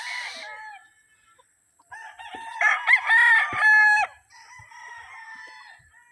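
Cockerels crowing close by, one long strained crow dominating the middle with shorter crows and clucks before and after, set against near silence.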